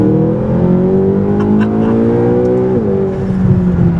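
A McLaren GT engine revs loudly and steadily close by, its pitch climbing smoothly before a brief gear change and renewed acceleration.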